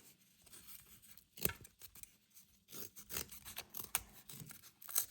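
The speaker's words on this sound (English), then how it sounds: "Then just cut that shape out." Scissors snip through cardboard to cut out a shape for a homemade Spinosaurus figure, a run of close, irregular crunching cuts with short pauses between strokes.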